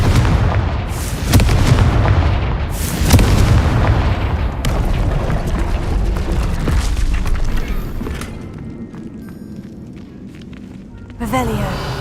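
Confringo fire-spell explosions in the Hogwarts Legacy video game, several loud booming blasts with long decaying rumbles, spaced a couple of seconds apart, mixed with game sounds and a voice.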